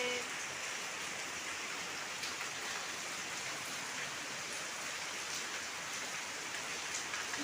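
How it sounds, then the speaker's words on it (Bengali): Rain falls steadily outdoors in a rural Bengali setting, a dense, even hiss of drops hitting surfaces that holds at a constant level throughout, with no voices. "বৃষ্টি ধরবে বৃষ্টি দেখো"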